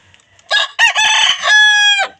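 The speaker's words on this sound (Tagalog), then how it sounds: "Meron tayo ditong panabong na manok." A four-month-old fighting rooster crows loudly and close by, a long harmonic call broken into a few bursts that ends on a sustained high note.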